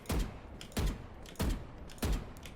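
Four evenly spaced gunshots ring out in Valorant, each a sharp, loud crack with a short decaying tail, fired as single taps about every 0.6 seconds with quiet gaps between.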